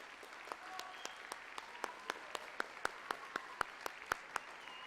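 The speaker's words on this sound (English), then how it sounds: "If you give these young people a round of applause." A sparse, faint audience applauds junior high band members at a school spring concert. Distinct individual claps ring out at a steady rhythm over a quiet room, with some light background talk.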